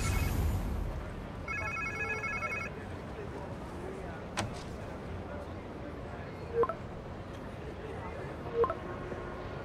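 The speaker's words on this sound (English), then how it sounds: "Sounds like somebody's phone." A phone rings in the Spider-Man 2 video game, a short electronic trill early on amid game ambience, followed by a few isolated thuds and clicks.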